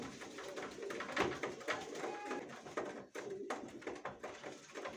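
Hünkari pigeons coo softly in their coop, low repeated calls mixed with light rustling and taps, fairly close with no talking.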